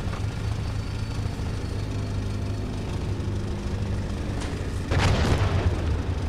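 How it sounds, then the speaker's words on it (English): Artillery shelling in the tank simulator game Steel Beasts Pro PE: a steady low engine-like rumble holds throughout, then a louder boom bursts in near the five-second mark and rolls on briefly. "Seems like we are getting shot by artillery."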